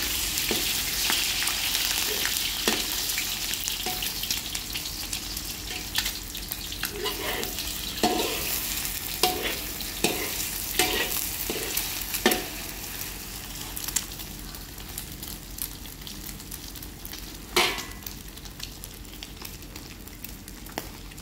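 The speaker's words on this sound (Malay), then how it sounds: "Mula-mula kita panaskan kuali. Lepas tu kita goreng dulu 4 butir telur dah." Four eggs fry in a heated wok, giving a steady sizzle throughout with scattered louder spits and crackles and occasional stirring clatter; no talking.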